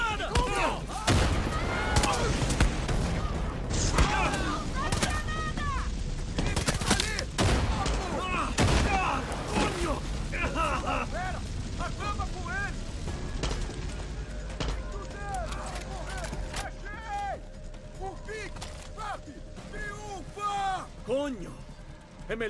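Far Cry 6 combat with heavy bursts of gunfire and booming blasts, a grenade explosion among them, loud and chaotic throughout while characters shout over the fighting.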